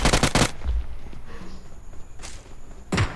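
Gunfire from behind in the PUBG Mobile video game: a rapid burst of loud automatic shots at the start, a quieter stretch, then another burst breaking in at the end.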